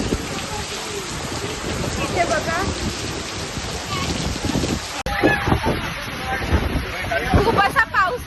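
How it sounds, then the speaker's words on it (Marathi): Heavy rain pours steadily in a loud, dense hiss during a family road trip, with an abrupt shift in tone midway and a voice speaking briefly over the downpour. "खूप असा पाऊस लागलाय."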